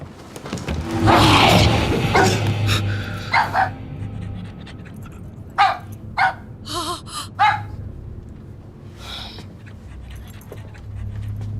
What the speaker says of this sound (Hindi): कितना बदसूरत कुत्ता है।